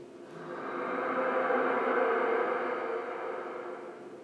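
Steady white-noise hiss fills the long metal corridors of the Space Hulk video game, a broad, even wash that swells slightly and then eases back, with no voices over it.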